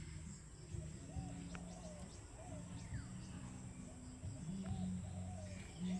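Pigeons coo in repeated soft, low phrases close by, with chirps from other birds and a steady background hum running underneath.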